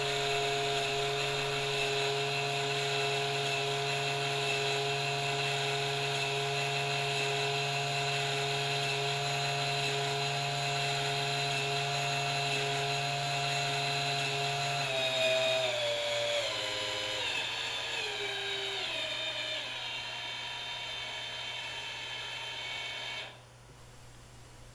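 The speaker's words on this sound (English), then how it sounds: "If I turn the rotor to its full clockwise position" An antenna rotor motor turns with a steady electric whine and humming tones that shift pitch midway, then cut off abruptly near the end, heard alone.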